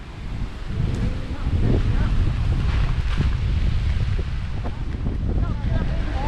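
Strong wind buffets the microphone in steady low rumbling gusts for the whole stretch, loud and continuous, beside a large waterway in Laos with no talk over it.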